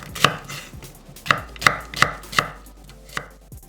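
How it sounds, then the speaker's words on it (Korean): A knife slices half an onion into thick strips on a cutting board, landing about six sharp, close chops at an uneven pace with brief pauses between them and no talking. "양파 반 개는 굵게 채 썰고"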